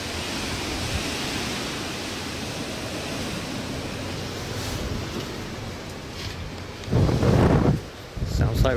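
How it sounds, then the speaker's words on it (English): Steady roaring wind from Windstorm Barney rushes through a passage without a break, with a sudden heavier gust buffeting the microphone near the end. "You can hear the furious wind in this passage."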